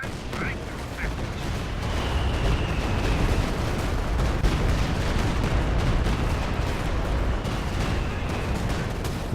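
Dense battle noise from the strategy game Company of Heroes 2 as anti-tank guns fire, with a constant roar of gunfire and explosions and repeated sharp cracks, loud and continuous throughout.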